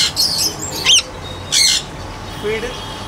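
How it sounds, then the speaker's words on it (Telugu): A red-collared lorikeet gives loud, harsh squawks in three sharp bursts, close by, with chirpy calls in between. "ఇది వచ్చేసేపటికి రెడ్ కాలర్ లారీ అండి"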